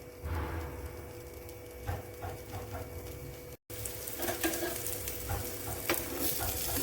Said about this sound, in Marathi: आता एका साइडने थोडंसं फ्राय करून घ्यायचं,